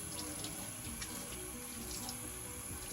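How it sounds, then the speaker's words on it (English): Hands being rinsed under a running tap in a sink, with a steady, continuous stream of water splashing close by and no talking. "And then now you can go ahead and rinse your hands."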